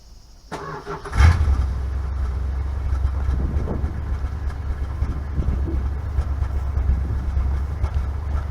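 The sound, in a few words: Dodge Coronet car engine running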